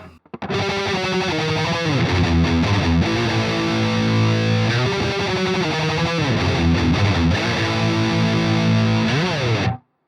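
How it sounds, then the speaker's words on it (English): A distorted electric guitar plays a fast tremolo-picked riff, rapid repeated notes shifting pitch, loud and steady for about nine seconds with no talking. "Now we add the tremolo picking, the alternate picking in"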